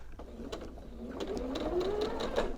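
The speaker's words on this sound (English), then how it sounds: "I'm going to sew to the corner with my material," A sewing machine stitches quilt binding diagonally toward a corner on minky backing, a fast, fairly quiet mechanical whirr with rhythmic needle clatter and a rising motor hum.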